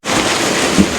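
Steady, dense rain hisses outdoors, close and loud, a continuous wash of falling water with no voices.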